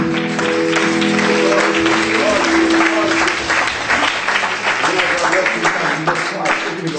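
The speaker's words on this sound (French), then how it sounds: "Applaudissons Jésus." Church congregation applauding during a French-language service, steady loud clapping filling the space throughout, with a voice and some sustained tones underneath.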